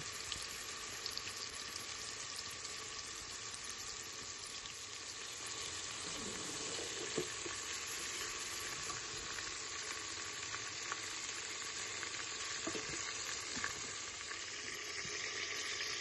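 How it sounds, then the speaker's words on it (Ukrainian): Small meatballs fry in hot oil as one sustained, even sizzle, with light crackles and spits over a steady hiss and a few faint clinks near the middle. "Потім відправляємо їх в гарячу олію, підсмажуємо з двох сторін і достаємо."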